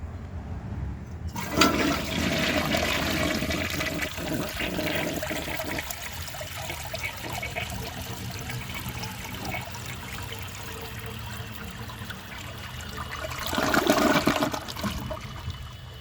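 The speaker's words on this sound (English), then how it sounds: "For the first flush test, let's see how it flushes with a dry bowl." A 1977 Kohler Highline toilet with a dry bowl flushes on about 4 gallons: a loud, close rush of water starting abruptly, a steady draining and refilling wash, then a second surge near the end.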